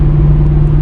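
A Pontiac G8 GT V8 cruising at about 2200 rpm through its old exhaust setup gives a loud, steady low drone with an even hum for just under a second.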